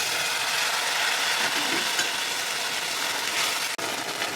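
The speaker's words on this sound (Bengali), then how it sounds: "তারপর আমি সর্ষে বাটাটা দিলাম।" Mustard paste hitting hot oil tempered with fenugreek and mustard seeds, a loud, dense, continuous hiss and sizzle up close, with one brief dip near the end.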